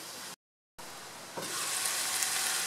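Pork simmering slowly in a covered pot over lowered heat, a steady close sizzle and bubbling hiss that briefly cuts out and then returns slightly louder and brighter, with no voices.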